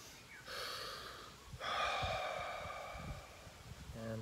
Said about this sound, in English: Breath.